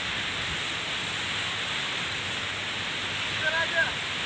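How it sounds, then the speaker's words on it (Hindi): A waterfall pours continuously beside the Mahalingeshwara Shiva temple at Gokak, Karnataka, a loud, even, hissing rush with a brief voice near the end. "ये चल रहा है झरना"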